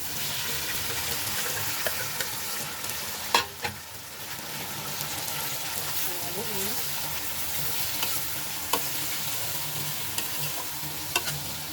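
Tomatoes fry in a pan with a steady, fairly quiet sizzle, broken by a few sharp clinks and scrapes from stirring, close by with no talking.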